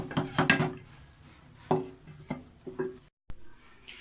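Dal served from a pot into a dish in a home kitchen, with a handful of scattered clinks and scrapes of a spoon against metal and crockery, close and fairly quiet, separated by short pauses.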